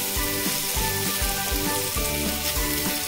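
Okra sizzles and crackles as it is stir-fried over a high flame, with loud, steady frying punctuated by rhythmic scraping strokes of the spatula every half second or so.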